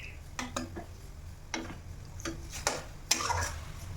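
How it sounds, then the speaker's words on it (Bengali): Culantro chutney is stirred with added water in a pan, a series of brief wet clinks and scrapes spaced irregularly, ending in a louder, longer stirring swish, close and without speech. "এখন দিলাম জল, ভালো করে মিক্স করে নেব।"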